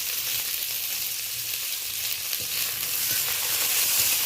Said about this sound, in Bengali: পেঁয়াজটা টমেটোটা একই সাথে আমি দিয়ে দিলাম।